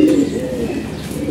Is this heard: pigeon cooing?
yes